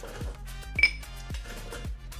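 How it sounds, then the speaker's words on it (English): Ice cubes tumble into a cocktail shaker for a margarita in a series of close, sharp clinks and thuds, several drops spaced about every half second, with one bright metallic ring. "fill the shaker with ice."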